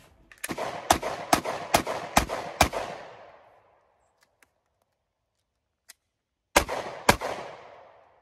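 A Glock pistol fires a quick string of six sharp shots about half a second apart, after roughly 1,500 rounds without cleaning. A lull with faint clicks follows, then two more close, loud shots.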